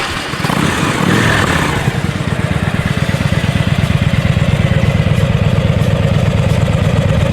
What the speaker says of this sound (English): had some very pleasant sounding aftermarket exhaust fitted